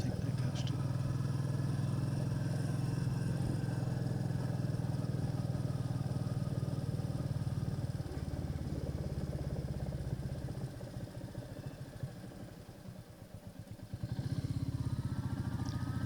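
Motorcycle engine droning steadily while riding along a country road near farmland, a strong low rumble that drops back around the middle and surges again near the end, with no talk.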